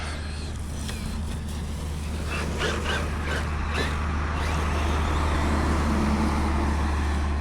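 A heavy dump truck engine rumbles low and steady, growing slightly louder as it drives along, with faint rattles and clunks over the drone.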